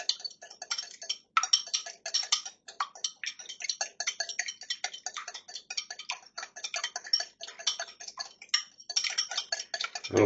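A fork or whisk rapidly beats egg wash in a bowl for brushing sausage roll pastry, giving fast, light, continuous clicking taps close by, without speech, ending with a faint thump.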